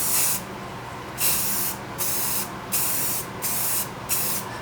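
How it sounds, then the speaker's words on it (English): Flat black spray paint hisses from a can onto a routed sign in six short, evenly repeated bursts, each a close, sharp spray lasting under a second with brief pauses between. "black spray paint."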